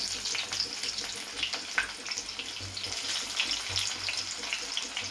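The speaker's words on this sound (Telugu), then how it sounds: "ఇప్పుడు ఆనియన్స్ వేస్తున్నాను." Onions frying in hot oil with cumin, fenugreek and mustard seeds for a ladies finger curry, a steady close sizzle broken by light crackles and soft scraping as they are stirred.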